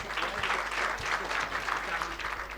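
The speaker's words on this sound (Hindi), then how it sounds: "एक बार ताली बजा दीजिए जोरदार।" Loud, sustained applause from a school audience of children fills the hall, steady clapping throughout with no voices over it.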